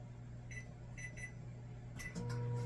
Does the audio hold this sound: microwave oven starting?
yes